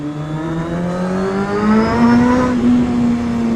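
Motorbike engine revving at close range, a loud buzzing tone rising steadily in pitch as the throttle opens, alone without talk.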